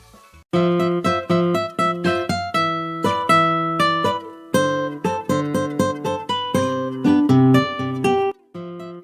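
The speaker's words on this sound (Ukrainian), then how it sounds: "Це гітара так звучить." A guitar plays a steady sequence of plucked notes and strummed chords, clear and close, each note ringing briefly before the next.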